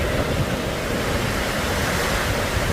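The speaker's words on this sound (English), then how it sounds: "Mate, I've never seen such wind." Strong storm wind in Beaudesert roars without pause, a loud, dense rush of gusting air buffeting the microphone, with no speech.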